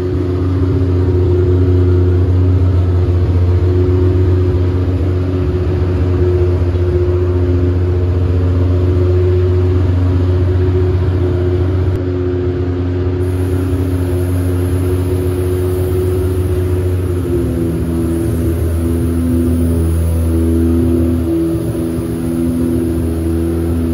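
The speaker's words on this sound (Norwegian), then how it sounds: "så skal vi få varme opp bilen" A car engine idles steadily as it warms up, a loud, continuous low drone with a strong hum, its pitch shifting partway through as the revs change.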